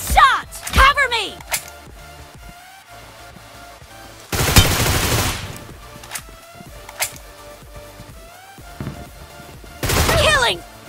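Shotgun blasts in a BGMI match fire as several sharp, separate booms spread over the stretch, with players' voices talking between the shots.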